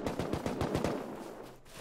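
AK assault rifle gunfire in a video game, a rapid burst of about eight close, loud shots in steady rhythm that trails off into quieter game ambience, with no talk.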